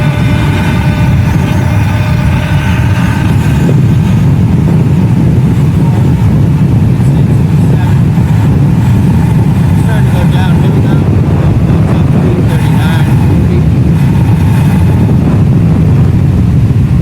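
An Ausom Gallop electric scooter accelerates from 0 to 30 with the rider's visor down, giving a loud, steady roar of wind and low road rumble over a faint rising motor whine for about seventeen seconds.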